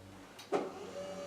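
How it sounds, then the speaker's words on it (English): The seat motor of a Frontier V6 off-road extreme power chair lowers the seat. A brief click is followed by a steady, faint electric motor hum. "This is the seat coming all the way back down"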